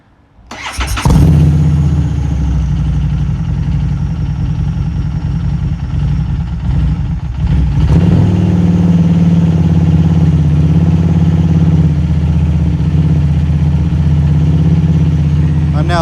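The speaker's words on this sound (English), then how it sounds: "I'm now holding the throttle open. I'm trying to get it to warm up a little bit." Harley-Davidson Street 500 motorcycle engine starts and then runs steadily with the throttle held open to warm it up, a loud continuous mid-pitched rumble that rises slightly partway through and holds for the rest of the stretch.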